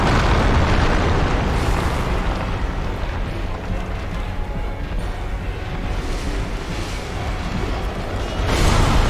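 A Magnum being fired in a video game, heavy booming blasts with dense rumbling noise that stays loud throughout and swells again at the end.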